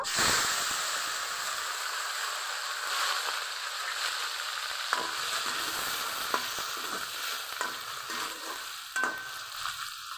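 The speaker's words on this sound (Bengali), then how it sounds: "কড়াইয়ে তেলও গরম হয়ে গেছে, তেলের মধ্যে দিয়ে দিব" Steady, loud hiss of crab frying in hot oil, with occasional sharp pops and crackles, close up and uninterrupted by voices.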